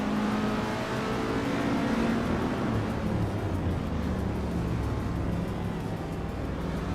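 Race cars, including a 1964 Porsche 356C, launch together from the grid at Circuit Hawaii as a dense, steady roar of engines revving and pulling away, loud and unbroken throughout.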